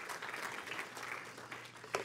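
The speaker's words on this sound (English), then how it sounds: "Just keep clapping, though" A church congregation claps steadily at a sermon service, a soft, even patter of applause heard at a distance, with a brief voice near the end.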